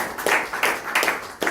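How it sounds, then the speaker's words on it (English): A few people clap in bursts at a business gathering, close and fairly loud, with uneven rhythmic pulses rather than a full crowd ovation. "bigger round of applause for this"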